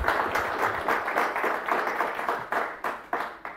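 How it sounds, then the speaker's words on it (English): Audience applause for an invited lecturer at the SDEWES 2024 conference: dense, steady clapping from a hall full of people, close and fairly loud, thinning into scattered sharper claps near the end. "let's give him a warm applause"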